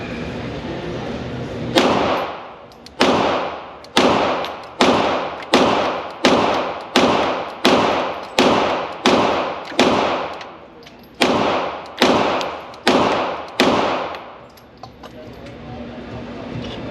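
A PSA Dagger Compact pistol fires a full magazine at a steady, deliberate pace. About fifteen loud, sharp reports come roughly every second, each with a brief ringing decay, close to the listener.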